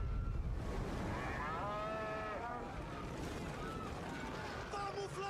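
A cow gives a long, drawn-out moo with a wavering pitch over steady low background noise, fairly close and clear.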